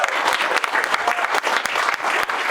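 An audience at a tech talk on outdoor innovation breaks into applause, a loud, dense wash of many hands clapping close together that holds steady throughout, with no speech over it.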